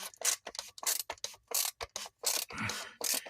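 Ratcheting wrench tightening the oil drain plug on a 2022 Kia Rio with a 15/16 socket, a rapid run of close, crisp clicking bursts in uneven rhythm, loud and alone.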